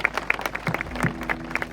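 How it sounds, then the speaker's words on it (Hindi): A church worship gathering's audience bursts into a quick round of applause, a brief burst of scattered hand claps from a crowd. "एक ताली भाई बालू भाई के लिए।"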